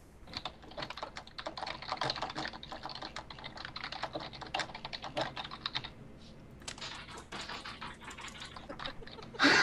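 Rapid clattery keystrokes on a computer keyboard run almost nonstop, a close, busy patter with short pauses, ending in a louder burst.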